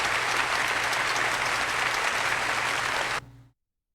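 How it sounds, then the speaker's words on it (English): Loud, dense applause from a crowd at a political election result in the video game Yakuza: Like A Dragon, steady for about three seconds before cutting off abruptly into silence. "That applause is really loud"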